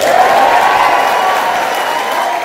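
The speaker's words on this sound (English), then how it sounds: "This announcement was met with applause and sense of determination for the crowd" Sustained applause from a large crowd at a political campaign launch, steady and loud throughout, a dense wash of clapping with no distinct voices on top.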